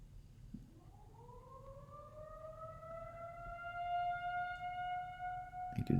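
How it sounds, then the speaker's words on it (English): Ambulance siren outdoors, rising in pitch and holding a steady wail, moderately loud and drawing nearer, with no talking over it. "You can hear ambulance outside."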